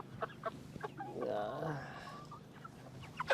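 Cornish cross meat chickens in a backyard poultry setup give a soft burst of clucking and low warbling calls, faint and close, among quiet scattered rustles and taps.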